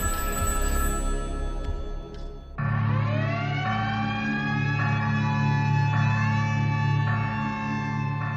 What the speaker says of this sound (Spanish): El guardia hace sonar la alarma